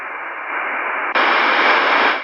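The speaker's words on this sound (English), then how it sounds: "It's very weak, but there is a carrier in the noise on 4760, Richard." Shortwave radio tuned to 4760, loud steady hiss of band noise that jumps brighter and wider halfway through as the setting shifts, with no audible voice or music.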